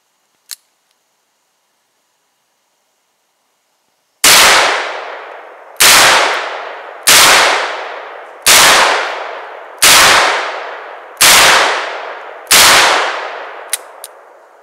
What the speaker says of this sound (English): notice how loud these get with the porting